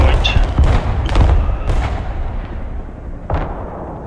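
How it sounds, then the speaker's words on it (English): Artillery fire in the video game Broken Arrow: a series of loud, deep booming shots, several heavy blasts in quick succession then a later single one, each trailing into a rumbling decay. "Artillery available, sir! I've got one firing on that last point."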